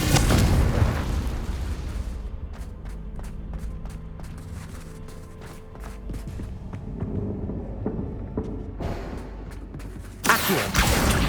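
A Confringo fire spell bursts in Hogwarts Legacy, a booming explosion at the start followed by rumbling, crackling debris, then a second loud blast at the end.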